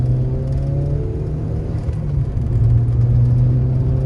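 A turbocharged Suzuki Swift ZC31S pulls away hard from a standstill, engine drone and whir rising steadily and close throughout with no talking.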